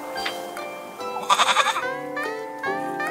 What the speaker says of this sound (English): you and that goat of yours, Rosemarine.